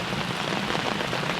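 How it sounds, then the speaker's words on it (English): Heavy rain pours steadily outdoors in the woods, a dense, constant hiss of drops striking surfaces, loud and unbroken with no voices. "it's raining kind of hard right now, so you might not be able to hear us"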